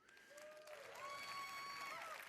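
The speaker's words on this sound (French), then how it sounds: "les gens applaudissent en plus, ils sont contents d'entendre ça" Audience at the Bethesda E3 2016 press conference applauding, a soft distant spread of clapping with tonal music or sound effects gliding over it, growing slightly louder partway through.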